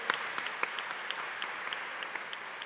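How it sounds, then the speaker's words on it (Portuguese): An audience at a formal ceremony in Rio de Janeiro's city council chamber applauds steadily, the clapping moderately distant and even, with a few sharper claps standing out. "Muitas palmas para essa equipe"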